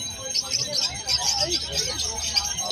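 Pet birds at a Malabon pet market stall, including Bloody Mary and opaline birds, chirp in a steady cluster of high bright calls, with people talking nearby throughout.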